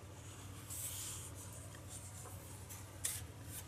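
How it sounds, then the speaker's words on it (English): A credit card drags paint across a surface in short scraping strokes, quiet and close, with a few brighter swipes standing out over a low background hum. "there's nothing that gets paint down faster and in a nicer way on a situation like this than a credit card"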